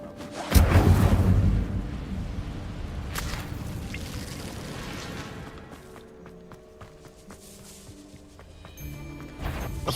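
An Incendio fire spell in Hogwarts Legacy bursts out with a loud booming whoosh, then a crackling, rushing roar that slowly tapers under scattered clicks and battle effects.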